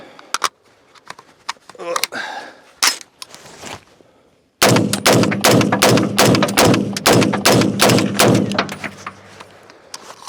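A Bear Creek Arsenal AR15 fires 7.62x39 rounds in a string of loud, sharp reports. A few come irregularly at first, then after a short pause a rapid run of shots follows close together, each ringing out briefly.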